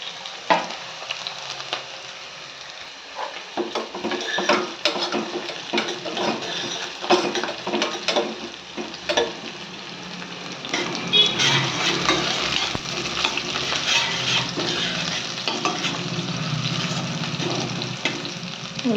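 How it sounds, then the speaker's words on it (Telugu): Sliced onions fry in a pan with a continuous sizzle, broken up by repeated scraping and clinking as a utensil stirs them. "ఉల్లిగడ్డ వేగిపోయింది."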